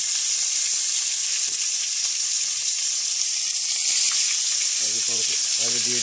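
Wild goat meat korma fries in hot oil with onion, garlic and ginger, a loud, steady broadband sizzle filling the whole stretch, with a voice speaking briefly near the end.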